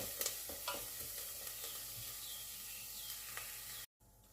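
Onion frying in a pan for a butternut and rice-feta filling, a steady close sizzle with faint stirring scrapes throughout, breaking off abruptly near the end.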